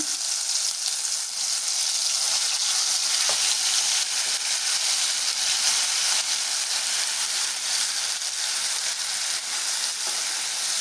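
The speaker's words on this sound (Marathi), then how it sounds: "कढईमध्ये तेल गरम झालेलं आहे अंदाजानुसार आपण आपला जो मसाला केला आहे तो टाकायचा आहे" Ground masala frying in hot oil in a kadai gives a loud, continuous close sizzle with crackling hiss throughout, steady and unbroken, with no voices.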